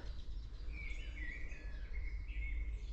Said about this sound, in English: It's like a flute-like song, very kind of slow-paced